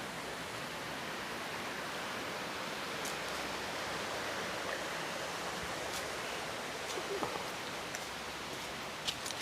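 Water from a natural spring in Zambales flows in a steady, even rush, like a small stream running continuously with faint splashes, while voices are barely present.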